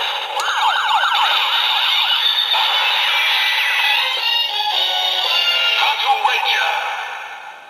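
A Patranger DX VS Changer toy plays its police-style transformation sound effect, a bright, tinny warbling siren with electronic chimes. It comes through small speakers and runs steadily for several seconds.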